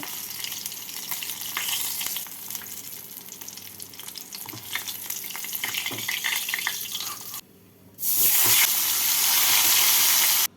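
Koi fish frying in hot oil in a home kitchen, a continuous crackling sizzle that cuts out briefly, then returns louder and brighter for the last few seconds.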